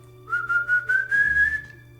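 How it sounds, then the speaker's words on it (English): One person whistles a single rising tone, a short pulsing note lasting about a second and a half, close and clear with no talk over it. "Every time I whistle,"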